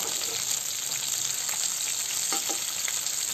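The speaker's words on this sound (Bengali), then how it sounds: "মাছের এক পাশ ভালোভাবে ভেজে নিয়ে আবার উল্টে অন্য পাশ ভালোভাবে ভেজে নেব" Fish pieces fry in oil in a pan, giving a steady, even sizzle and crackle heard close up with a couple of brief scraping turns, no speech.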